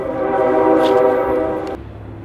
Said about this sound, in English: The vibrations from the train are going to make the fish aggressive.